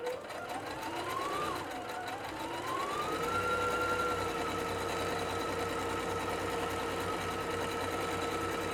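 A Singer SE9185 sewing and embroidery machine stitches a reverse tie-off, its motor whirring steadily with rising and falling electronic tones over the mechanical hum, close and moderately quiet.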